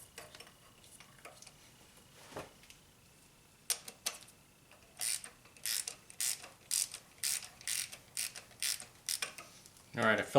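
Spark plug on a 2003 Honda Civic tightened by hand ratchet to torque spec: faint early clicks, then a regular series of crisp close ratcheting clicks growing louder, with no one talking.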